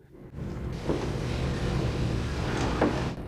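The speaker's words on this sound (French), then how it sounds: "Et maintenant, je vais démarrer la roue de coupe." The cutting wheel of a Springfield Armory gunstock copying lathe spins up into a steady, close mechanical whir, with a couple of brief scraping surges along the way.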